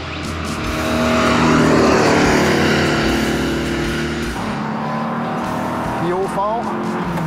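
Engine of a Porsche 914 driven hard on a race track, a steady loud drone with slowly rising and falling revs, plus a brief tire squeal near the end.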